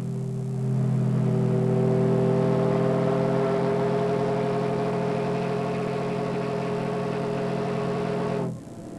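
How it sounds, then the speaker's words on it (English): The old steam engine powering the Belle steamboat runs below deck with a steady, loud, droning hum and a deep tonal rumble, holding constant for several seconds before dropping away abruptly near the end. "We went down below recently and took a look at the steam engine that powers the"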